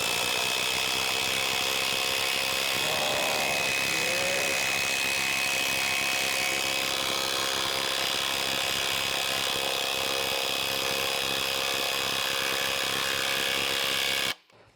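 A RIDGID 12 PD cordless power tool running fast without a pilot hole, a loud, continuous high-pitched whine and grinding that holds steady for over fourteen seconds before stopping abruptly, with no talking.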